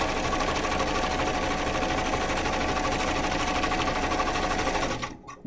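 A sewing machine stitches steadily and loudly in a continuous run for about five seconds, then stops abruptly near the end.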